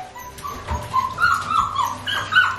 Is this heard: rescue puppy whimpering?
yes